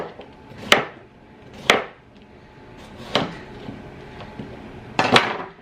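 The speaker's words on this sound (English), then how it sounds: "So I'm gonna start by cubing 4 potatoes." A knife cubes potatoes on a cutting board, giving four sharp, separate chops spaced about a second apart, with quieter knocks and faint kitchen clatter between them.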